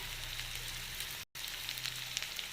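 Onion and green chilies frying in hot oil give a steady, dense sizzle with crackling spatters throughout, broken once by a brief silent gap before resuming at the same level.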